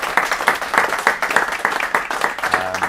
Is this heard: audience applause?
yes